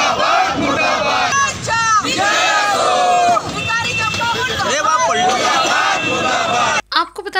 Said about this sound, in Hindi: आपको बता दें कि इस दौरान एनसीपी कार्यकर्ताओं ने बीजेपी मुर्दाबाद के नारे भी लगाए।